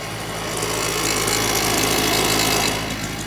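Two-stroke engine with a steel pipe, used as a makeshift duster on tile, running loud and steady at high revs with a constant buzzing drone throughout.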